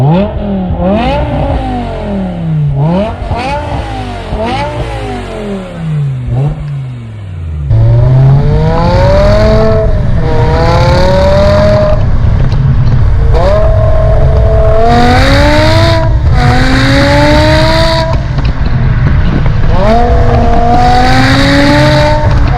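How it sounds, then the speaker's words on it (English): BMW E63 M6 engine and exhaust revving repeatedly in rising, falling sweeps, first a few short blips, then a louder run of sustained high-rpm pulls with rising pitch, close and loud throughout with no talking. "And I think everybody wants to hear what the car sounds like,"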